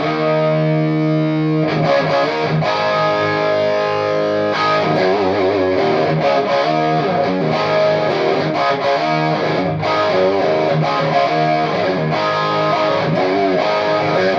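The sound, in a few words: electric guitar through Dumble-style overdrive pedal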